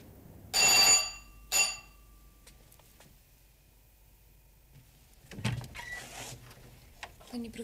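A telephone rings twice in short electronic bursts, then quiet room tone follows, with some faint movement and a voice near the end.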